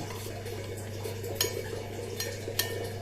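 Spoon stirring a ragi flour mixture in a bowl at home, giving a steady run of soft scraping and clinks with a few sharper taps against the side, close by and with no voices.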